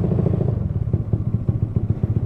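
A Honda Supra motorcycle with a Daytona 190 engine idles close by, a steady low rumble with an even, rapid pulse and some light mechanical clatter running throughout.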